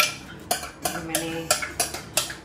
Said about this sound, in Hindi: दही मिक्स कर लिया इसमें